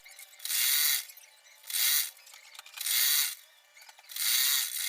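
A sewing machine stitches petticoat fabric panels in four short, even bursts with brief gaps between them, a close, whirring run that starts and stops regularly.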